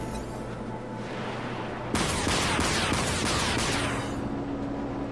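Warship guns fire in the naval battle game Dreadnought: after a low rumbling lull, a sudden loud burst of rapid shots and blasts crashes in and keeps going for a couple of seconds, then fades back to a hum.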